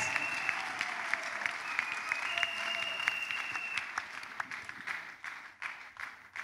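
A church congregation claps in a dense, sustained burst of applause that gradually thins and fades, with tonal lines above it and talk faintly underneath.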